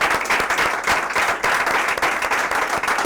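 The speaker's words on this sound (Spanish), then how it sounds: "Así que yo pido otro fuerte aplauso" An audience gives a speaker a strong round of applause, dense, loud clapping from many hands that continues steadily with no talk over it.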